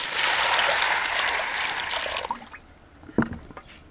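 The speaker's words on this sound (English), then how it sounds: "so it's time for us to wash the beans" Water pours steadily over beans being washed in a village kitchen, a close rushing trickle that fades after a couple of seconds into a few splashes and knocks.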